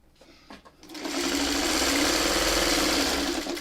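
A sewing machine stitching a quilt block starts up after a few soft handling taps and then runs steadily, a loud close rapid whir.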